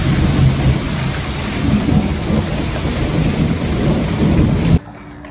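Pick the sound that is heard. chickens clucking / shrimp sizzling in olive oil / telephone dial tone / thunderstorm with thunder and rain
thunderstorm with thunder and rain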